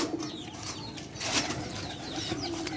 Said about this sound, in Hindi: कबूतर अपने दड़बे से आ रहे हैं